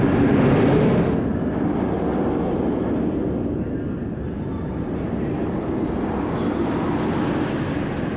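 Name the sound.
Medusa roller coaster ride at Six Flags Great Adventure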